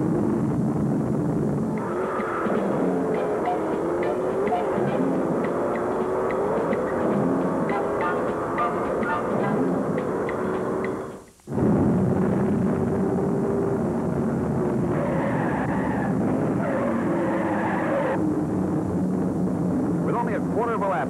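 Loud roar of many 1971 NASCAR Modified race cars revving and accelerating together at the race start at Martinsville Speedway, a dense continuous rumble with a momentary cut partway through, under a crowd-like wash.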